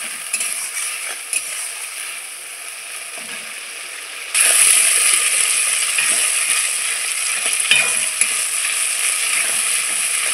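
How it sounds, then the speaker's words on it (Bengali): Mutton kosa masala being stir-fried in a pan after a splash of water, a continuous hiss and sizzle that grows louder midway, with scraping stirs and occasional clicks. "দিয়ে আবারও আমি ভালো করে কষিয়ে নেব।"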